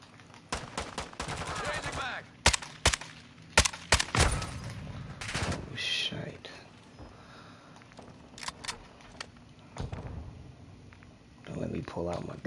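Gunfire in Call of Duty Modern Warfare 2 multiplayer: several sharp bursts and single shots spread through the stretch, loud and close, with people talking between and over them.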